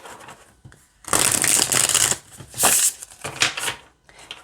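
Tarot cards are shuffled in a few rapid riffling bursts, crisp and close, separated by brief quiet pauses.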